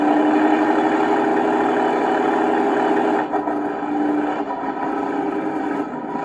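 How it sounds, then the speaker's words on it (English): A steady mechanical engine drone from an LGB 2095 model locomotive upgraded with a Zimo sound decoder hums continuously at close range as the throttle rises, holding fairly constant with a slight dip partway through, no voices present. "I'm increasing the throttle, and you hear the engine noise increase"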